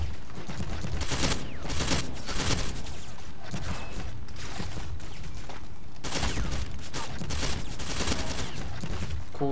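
Rapid, dense gunfire from the online shooter Ghost Recon Online, with repeated bursts of shots packed close together and loud throughout, with no pauses and no talk.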